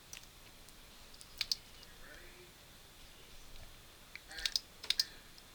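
A few quiet, sharp key presses on a computer keyboard, heard as single clicks and short clusters against a faint background hiss.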